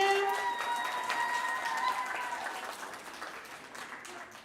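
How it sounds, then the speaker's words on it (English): Applause from an audience for primary school learners at a speech contest, steady clapping that slowly thins out, with voices and cheers mixed in over the clapping. "Let's hear a round of applause for them."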